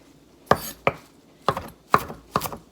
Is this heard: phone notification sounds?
no